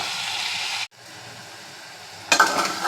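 Onions and tomatoes sizzle in a pan with a close, hissing fry that breaks off briefly, then returns and swells louder near the end.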